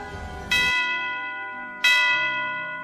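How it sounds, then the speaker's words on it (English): Two resonant bell strikes, about a second and a half apart, each ringing out and slowly decaying with no voices, opening a Christmas song. "Bells will be ringing"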